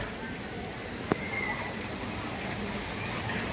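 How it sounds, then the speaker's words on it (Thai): Jet Sao Noi waterfall in Saraburi, Thailand, rushing as a steady, even hiss of falling water, with a single brief knock partway through. "น้ำตกเนี่ย"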